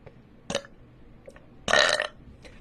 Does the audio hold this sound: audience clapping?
no